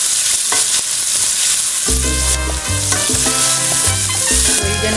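Garlic and onion fry in a pan over lowered heat as a ratatouille base, giving a steady close sizzle with occasional stirring, under background music and with no speech.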